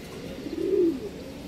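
A single soft, low coo from a racing pigeon rises and fades over about a second against a quiet background hum.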